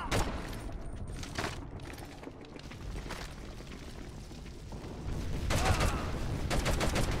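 MP40 submachine gun fire in the PS2 game Medal of Honor: European Assault, bursts of gunfire and booming blasts at moderate distance, growing denser and louder toward the end.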